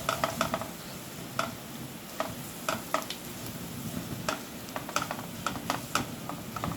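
Ground spices with salt, turmeric, coriander-cumin powder and Kashmiri chilli sizzle in hot oil for a Kathiyawadi dahi tikhari, with a steady frying hiss broken by repeated sharp clicks and scrapes of a spoon stirring against the pan.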